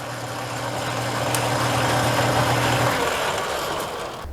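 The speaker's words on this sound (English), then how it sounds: "So once I click this over, it'll spin this spindle." A lathe spindle spins up while turning scrap plumbing brass, a steady close motor hum with a droning tone that shifts partway through, running alone without talk.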